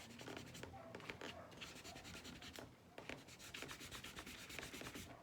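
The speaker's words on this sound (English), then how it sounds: "Then I'm gonna go in with my eraser, and I'm gonna start to remove those cloud shapes." An eraser rubs back and forth on drawing paper in quick, dry scratchy strokes, close and quiet, with rhythmic bursts and brief pauses between them.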